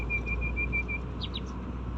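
A single bird chirps in a repeated high, thin whistle, followed by a few quick tweets, heard from inside a car over a steady low engine and road rumble.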